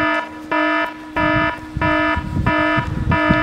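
A flight timer for a Durafly F4U Corsair RC plane sounds a loud, repeating electronic beep in regular pulses of about half a second, with steady motor noise beneath and no talking.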